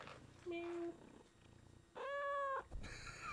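A pet cat purrs up close in a low, continuous rumble, broken by two short tonal, voice-like calls that could be meows.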